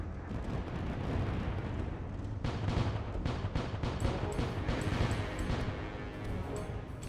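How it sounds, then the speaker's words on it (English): Heavy ship cannons firing in the Void Sails space adventure, a string of booming shots over a constant dense rumble, fairly loud and close with no talk. "use my cannons."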